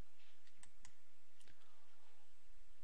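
Computer mouse buttons click during web page editing, several sharp isolated clicks spaced irregularly apart, close and crisp against a quiet background.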